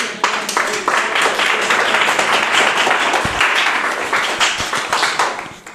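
A church congregation gives loud, vigorous applause, many hands clapping in a dense burst with some individual sharp claps standing out, swelling and then tapering near the close.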